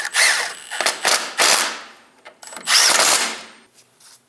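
A power tool tightens bolts on a front lower control arm of a Chevrolet Express, sounding as several loud, close whirring bursts of about half a second to a second each, separated by brief pauses.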